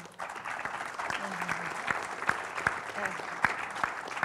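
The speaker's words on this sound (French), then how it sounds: "Grand applaudissement pour Amaya." A crowd applauds steadily with dense, even clapping at the Grand Action cinema in Paris, while a voice speaks briefly over it.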